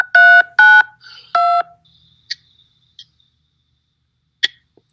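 Three loud electronic tone beeps on a phone line in quick succession, followed by a few faint clicks and blips, with no talking.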